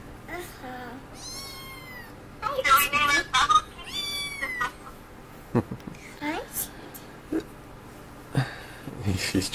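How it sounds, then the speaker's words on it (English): A kitten meowing repeatedly, high thin rising and falling cries close by, interleaved with children and adults talking and small household noises. "Can I hold my kitty"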